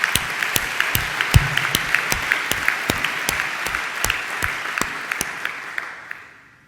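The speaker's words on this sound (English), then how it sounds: "I'd like you to give them a round of applause" An audience at a university Founders Day ceremony breaks into sustained applause for hospital staff, a dense wash of many clapping hands with a few sharper claps standing out, holding steady before tapering off at the end.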